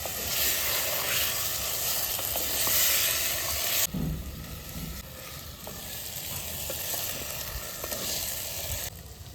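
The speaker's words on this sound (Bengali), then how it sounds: "মাংসটা দিয়ে মশলাটা ভালো করে কষিয়ে নেব।" Duck meat fries with spices in a pan with a loud, continuous crackling sizzle, and stirring keeps the hiss steady before it softens somewhat partway through.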